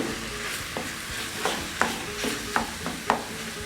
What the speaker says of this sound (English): You want to brown off all the mince so it's cooking with all the spices and onions and garlic.